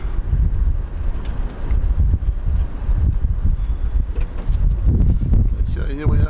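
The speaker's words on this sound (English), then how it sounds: "I've got to say one thing about this peninsula, the wind fairly blows." Strong wind of around 30 to 40 knots blowing across a peninsula, producing loud, continuous gusting rumble and buffeting against the microphone, with a brief voice at the very end.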